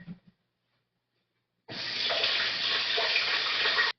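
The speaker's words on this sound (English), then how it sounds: "Sweet potatoes. These. Need to wash these off." Tap water runs over sweet potatoes being washed, a steady close splashing rush that starts abruptly after a brief quiet stretch and carries on evenly to the end.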